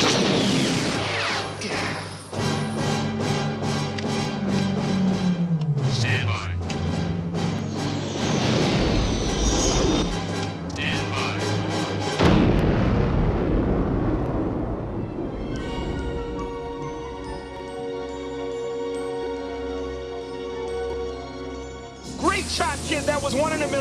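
The Death Star explosion from the Star Wars film is a heavy, rumbling blast mixed with the orchestral score, with a voice heard over it before the music swells.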